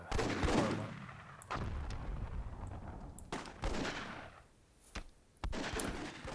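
Repeated rocket-propelled grenade blasts in a Myth II Soulblighter WWII-mod battle, several loud bursts with decaying rumble spaced over a few seconds, with no voices.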